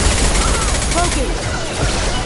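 Dense, loud gunfire from a video game, rapid continuous bursts filling the whole moment with a voice shouting over the shooting.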